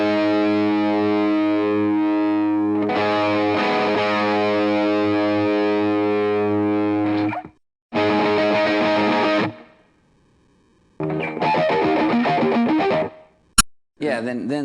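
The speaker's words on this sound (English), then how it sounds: "one guitar is building up, going, doing that kind of power chord with that open string. And the other one's going, doing harmonics" Two distorted electric guitars playing together, one building power chords over a ringing open string while the other picks harmonics up and down the string. Loud, sustained, chiming tones stop and restart in short bursts.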